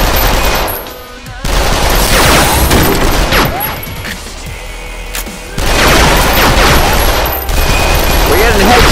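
Rapid loud gunfire from weapons in the VR shooting game Lethal VR, dense continuous volleys of shots filling the whole stretch, with brief dips between bursts.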